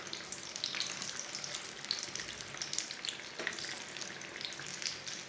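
Kebabs made from leftover curry fry in a pan, a steady close crackling sizzle with scattered sharp pops running throughout, no voices over it.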